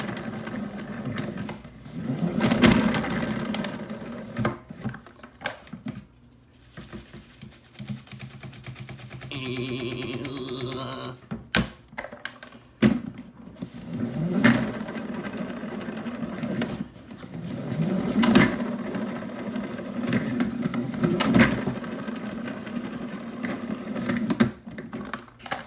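A salad spinner whirls freshly washed hydroponic vegetables dry, giving a close, rumbling whir that pulses in repeated surges with clattering bursts over about twenty-five seconds, and no talking.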